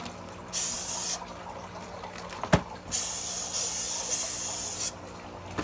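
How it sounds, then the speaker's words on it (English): Two bursts of Lysol disinfectant aerosol spray hiss close by, each lasting under a second, separated by a sharp click and quiet handling noise. "Spray some Lysol still before opening."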